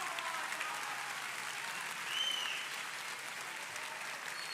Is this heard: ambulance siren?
no